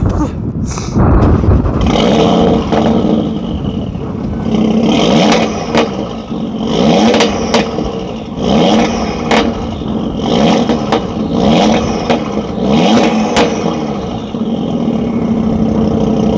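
Audi RS3 with an ABT Stage 1 tune revving loudly nearby in a run of repeated blips and sustained roars with crackles between them, while people talk over it now and then.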